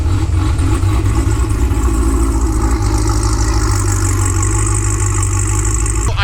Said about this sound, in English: Now to just drive around and get rid of the overspray and see how it handles.